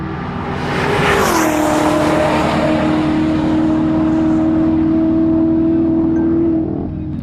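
Race cars roar past close to the trackside fence at NOLA, a loud sustained engine rush. A steady high drone holds under a wash of broadband road noise, with no talking.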